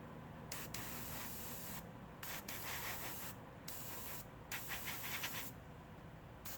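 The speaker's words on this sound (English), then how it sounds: "as far as airbrush, it blows alright" A Gundam Marker airbrush sprays in repeated bursts of steady close hiss, each lasting a second or so and separated by short silent gaps.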